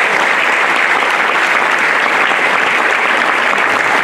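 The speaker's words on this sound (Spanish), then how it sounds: "para que le demos un aplauso también" Loud, sustained audience applause at a political party gathering as a young member stands to be recognised, dense uninterrupted clapping filling the whole stretch at an even level, with no speech.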